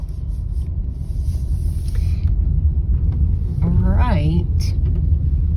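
Steady low rumble from inside a small red car being driven along a street, with a person speaking over the road noise throughout.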